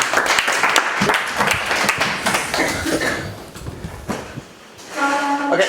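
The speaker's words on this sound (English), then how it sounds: "Let's give him a round of applause" Audience at a weekly startup meetup applauds a speaker, a dense wash of close clapping filling most of the stretch before thinning out, with a voice briefly rising at the end.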